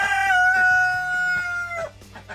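Rooster crows once, close and clear, in a farm setting with a rabbitry under construction; a single bright, drawn-out call with a short trailing end and no voices over it.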